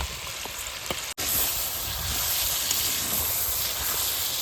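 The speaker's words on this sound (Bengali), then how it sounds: "কড়াইতে কিছুটা সাদা তেল আমি এখন গরম করে নিয়েছি, এখন এর ভিতরে চিকেনের পিসগুলো দিয়ে দেবো। মাংসটা হালকা একটু ভেজে নেবো।" Chicken pieces hit hot white oil in a wok. After a sharp break, a loud, continuous hiss and sizzle takes over and stays strong to the end.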